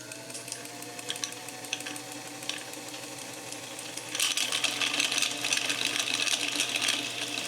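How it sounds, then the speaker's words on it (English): A sewing machine winds its bobbin with the handwheel loosened so the needle stays still. A steady mechanical whir runs throughout and turns louder and busier partway through. "I've loosened it up so that the machine isn't sewing while it's winding the bobbin"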